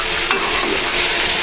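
Potatoes frying in a hot pan, stirred with a steady scraping sizzle, close and continuous with no voices.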